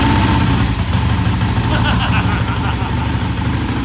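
A Triumph motorcycle engine running after a kick start, a steady loud idle with a rhythmic knocking pulse, close by, with voices talking over it.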